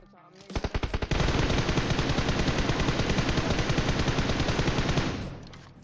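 Automatic gunfire in PUBG during a squad fight: a few separate shots, then a long unbroken rapid burst lasting about four seconds, loud and close, before it cuts off.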